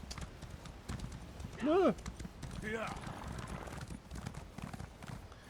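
Horse hooves clip-clopping steadily in the video game Elder Scrolls Online, soft and quick, with a short vocal exclamation and game effects in between.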